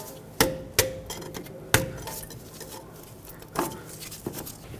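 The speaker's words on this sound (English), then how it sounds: "Using a trim tool, let's remove the ABS wire off of this upper control arm. Just pop the clips off." A trim tool popping ABS wire clips off the upper control arm of a 2003-2012 Chevrolet Colorado, four sharp plastic snaps spaced irregularly, close and loud over a quiet shop background.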